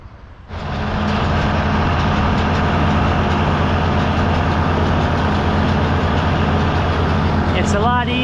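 A farm tractor's engine drones steadily and loudly up close while disking a field, kicking in abruptly after a quiet start and holding a constant heavy rumble throughout.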